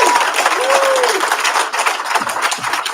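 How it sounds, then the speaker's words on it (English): Applause from a graduation ceremony audience, a steady dense wash of clapping that fills the whole stretch, with a voice briefly audible over it. "Please give them a gigantic round of applause."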